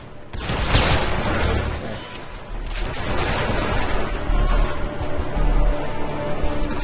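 Loud, rapid gunfire from the stealth-action game Hitman: Absolution, with bursts of automatic shots and booming impacts rattling on continuously for several seconds without talk.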